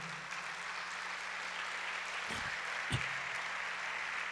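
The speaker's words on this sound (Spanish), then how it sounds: "Da un aplauso al Señor." Church congregation applauding together, a steady, even wash of clapping held at moderate level throughout, with a couple of brief low thumps near the middle.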